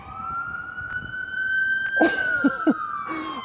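An ambulance siren on a city street holds a long steady wailing tone that slowly falls in pitch, fairly close and loud, with a few short knocks and traffic noise underneath.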